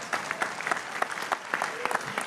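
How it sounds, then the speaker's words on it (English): Audience clapping at a tech keynote, a brief stretch of scattered, crisp claps of moderate loudness with no talking over them. "so I'm going to applaud for myself"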